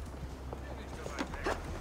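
Horse hooves gallop in Assassin's Creed Valhalla as the rider sets off, a soft, steady clopping beat that stays low beneath voices speaking over it.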